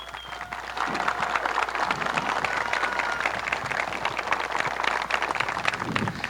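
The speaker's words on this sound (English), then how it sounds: "Give them another round of applause." Audience applause at a Memorial Day ceremony in Marine City, honoring the high school marching band: steady, dense clapping from a crowd, sustained and fairly even throughout.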